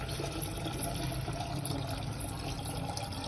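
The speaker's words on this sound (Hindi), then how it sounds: "गिर देता हूँ इसमें पानी" Water pours steadily into a pigeon's water container, a continuous close splashing and trickling that runs unbroken throughout.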